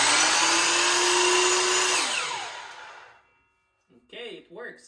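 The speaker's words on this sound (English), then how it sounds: "Now you can plug in your saw and we'll test it." A DeWalt compound mitre saw spins up with a loud steady whine that winds down over a couple of seconds to silence, after which a person briefly speaks.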